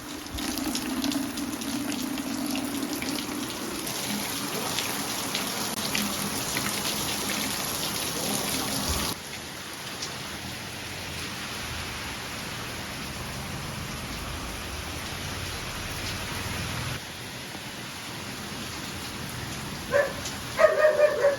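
Steady rain pours down in a dense, continuous hiss, with a brief clatter near the end; no one speaks.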